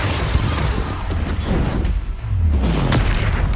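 Confringo spell explosions in modded Hogwarts Legacy combat, a few deep booming blasts with crackling debris over a continuous battle din.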